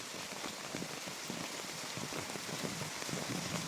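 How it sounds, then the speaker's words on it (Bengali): Heavy rain pours steadily, a dense, even hiss of drops drumming on surfaces close by, with no letup and no voices. "এদিকে হইতেছে ধুম বৃষ্টি"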